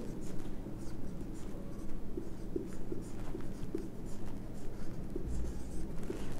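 A headline is handwritten with a pen on paper, soft scratchy strokes in short bursts close to the mic over a steady low background hum.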